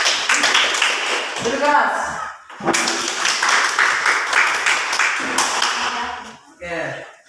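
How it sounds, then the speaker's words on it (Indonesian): A classroom of students claps in a dense, steady burst, briefly breaks off, then resumes for several more seconds before fading, with a voice speaking near the end. "sekali lagi tepuk tangan untuk kalian semua"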